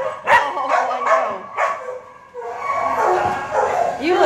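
A mother dog at an animal shelter gives a run of close yips and short barks mixed with whining whimpers, while a person talks to her over the noise.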